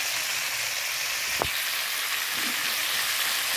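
Onions sizzle in hot oil in a pan with a steady, hissing crackle, close and fairly loud, broken by one brief sharp clink near the middle.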